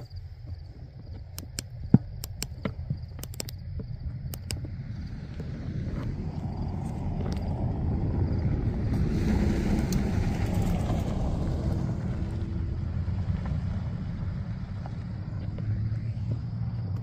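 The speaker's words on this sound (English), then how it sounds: "So there's actually a car coming down right now." A car approaching along a quarry road at night, a low rumbling engine swelling gradually from far to nearer and holding steady, with a few faint clicks early on.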